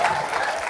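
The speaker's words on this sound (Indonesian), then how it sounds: "Enak ya, tepuk tangan lu guys." A church congregation claps together, a brief burst of dense, even applause from many people that stays loud and steady throughout, with no speech over it.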